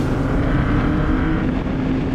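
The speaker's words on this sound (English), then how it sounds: "When the engine fires up and you're going" Formula Super Vee race car engine droning steadily at close range, a loud continuous roar with a low rumbling hum and no pauses.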